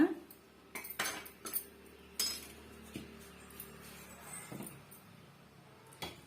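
Metal utensils clink and scrape against a kadai and vessels while melted jaggery syrup is transferred, a scattering of sharp knocks and rattles close by over quiet background, with no talking.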